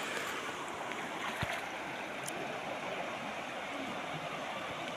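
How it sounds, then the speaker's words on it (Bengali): River floodwater rushes straight across a road in a steady, broadband roar of flowing current that holds constant and loud throughout, with no voices. "পানির যে স্রোত বা একটা শব্দ শোনা যার,"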